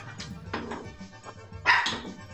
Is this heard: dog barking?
yes